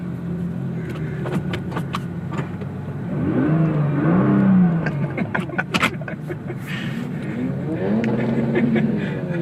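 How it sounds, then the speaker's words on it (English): Several cars rev their engines against each other at a race event, one an all-wheel-drive car with a dual-clutch transmission, giving loud rising and falling engine roars with sharp pops over roughly nine seconds and a continuous mechanical drone beneath. "we got a whole revving match going on here"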